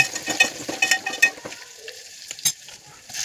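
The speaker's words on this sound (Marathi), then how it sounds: "चांगलं परतून घेणार तेलामध्ये" Cumin, mustard seeds, garlic paste and curry leaves saute in oil for a drumstick dal amti, giving close spitting sizzles and bursts of crackle, broken by the clatter of a spoon stirring the pan.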